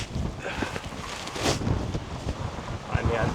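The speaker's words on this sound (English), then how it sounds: "It's windy. I wish the wind was going the other way." Strong wind gusting across an exposed hilltop on Kinder Scout during a solo wild camp, a steady buffeting roar close on the microphone with a sharper gust midway.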